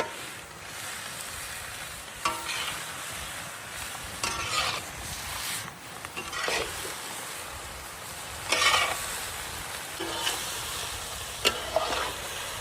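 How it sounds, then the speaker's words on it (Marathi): Chopped onion sautéing with salt in a kadai gives a soft, continuous sizzle, broken by louder scraping stirs of the spatula every second or two, close and with no talk. "हलका ब्राऊन होईपर्यंत कांदा आपण असंच परतून घेऊ कढईमध्ये।"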